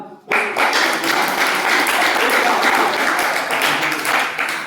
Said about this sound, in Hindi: तो इसलिए जोरदार तालियां।